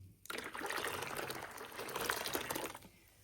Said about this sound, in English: So I've added some very hot water.